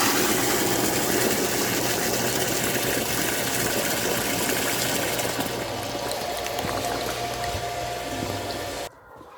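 Water pours and rushes steadily while a chicken feed bucket is washed down on a ranch, a loud continuous splashing flow that cuts off abruptly at the end.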